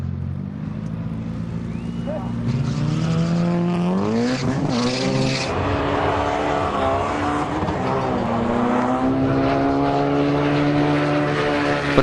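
A Subaru WRX and a Honda Integra race head to head in a semi-final, engines revving through rising and falling gear changes at close range, with a voice talking over them.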